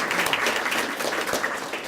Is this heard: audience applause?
yes